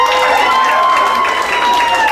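A comedy show audience claps and cheers, a loud, dense wash of applause with shouting voices throughout that sounds close and continuous.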